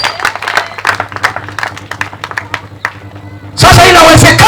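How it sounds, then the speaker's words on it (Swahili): Congregation in a church service bursting into loud, sustained applause and clapping near the end, following a stretch of preaching with music underneath. "Pigia Yesu makofi."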